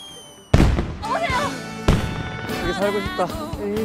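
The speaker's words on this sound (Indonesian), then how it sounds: "Mereka pun berpesta di sana dan dikagetkan dengan suara kembang api" Fireworks burst loudly twice, sharp bangs followed by crackling, under film music and voices talking.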